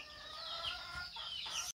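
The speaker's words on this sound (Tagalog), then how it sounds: "papakainin ko yung manok" Chickens cluck and call in a backyard before feeding, several overlapping bird voices close by, continuous and then cut off abruptly.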